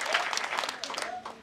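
Crowd applause at an outdoor community gathering where a member of parliament donates motorbikes to women's groups, steady clapping throughout at moderate loudness, with a voice speaking over it.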